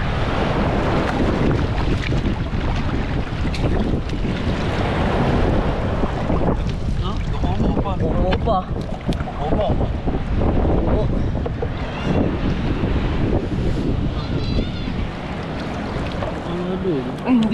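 Big ocean waves and strong current surge around a small fishing boat, with heavy wind buffeting the microphone and the rush of water continuing throughout, while people talk over the noise.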